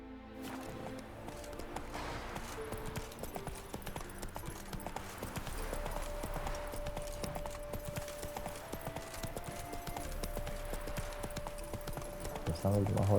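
Steady clip-clop of horse hooves at a walking pace in the video game The Witcher 3: Wild Hunt, continuous and fairly close, with a sustained musical tone and game sounds layered underneath.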